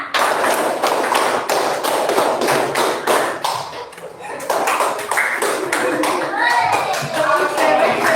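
A classroom of students claps a rhythm together, sharp tight claps in quick grouped bursts repeated over several seconds, fairly loud and close, with some voices and chatter mixed in toward the end.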